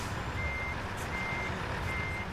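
A truck's reversing alarm in the driving game American Truck Simulator, steady repeated beeps at an even rhythm over a constant low engine rumble, heard without talk.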